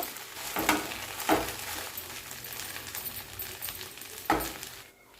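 Chennangi leaves frying in a pan, a steady soft sizzle and crackle punctuated by three louder clanks of a stirring utensil against the pan, close by with no talking.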